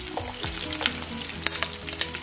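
Okra stir-fry ingredients with chopped onion, green chillies and curry leaves sizzle in a hot pan, a steady close frying hiss broken by scraping stirs of a spatula.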